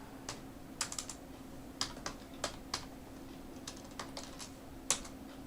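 Keys clatter on a computer keyboard in irregular, crisp taps spaced across several seconds, with a low steady hum running underneath.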